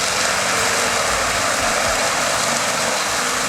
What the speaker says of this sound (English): This is the combination of a Fendt 930 Vario and an AHWIM